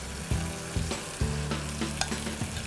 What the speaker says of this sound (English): Now in goes the harissa paste.